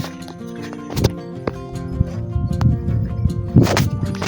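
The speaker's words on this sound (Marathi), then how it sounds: "घंट्यांचा आवाज येतोय." Bells hung on grazing cows ring in a village field in the afternoon, giving overlapping metallic clinks and tones that come and go irregularly, with a couple of louder jangles over soft outdoor background.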